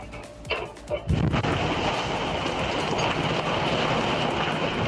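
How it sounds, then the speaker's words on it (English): An explosion tears through a Bay Area neighborhood in news footage, a sudden heavy blast followed by a sustained roaring rumble and crackle that stays loud throughout. "An explosion ripping apart a Bay Area neighborhood."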